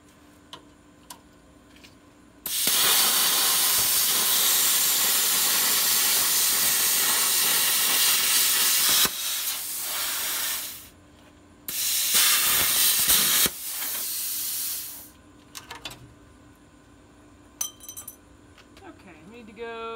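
A cutting tool slices along a weld seam on a 1958 split-window VW bus frame, producing long loud hissing bursts of several seconds each, broken by pauses with small metallic clinks and ticks.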